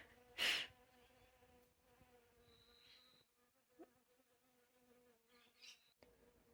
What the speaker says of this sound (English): A bee has come in here to find the basil.